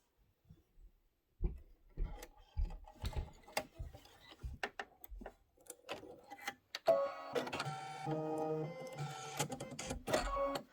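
An embroidery machine stitches a pumpkin pincushion quilt block, starting with scattered mechanical clicks and whirs. It then builds into steady, close, rhythmic stitching with a tonal motor whine that shifts pitch as the needle moves.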